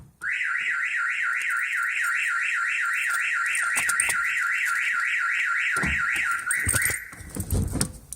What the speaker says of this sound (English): car automatically unlocks and the alarm sounds off